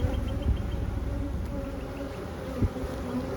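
Steady, close buzzing from a queenless honeybee hive, a continuous insect drone with small bumps of individual bees passing nearby, no talking.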